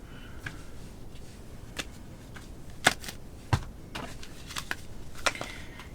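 A deck of oracle cards is shuffled by hand at close range, producing quiet, irregular riffling and flicking with several sharper taps scattered across a low background.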